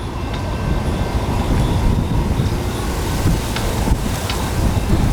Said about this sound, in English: Oh, thank you, train.